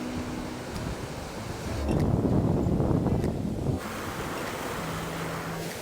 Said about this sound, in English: And the ocean is absolutely beautiful.